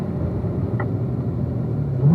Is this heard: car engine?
yes